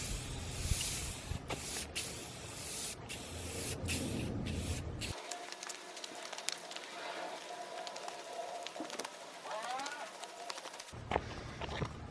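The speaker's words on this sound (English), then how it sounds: "We're now ready to put the clear coat on." Aerosol clear coat hisses in broadband bursts onto a Saab 9-3 grille, with a few short sprays followed by steadier spraying and a brief pause mid-way.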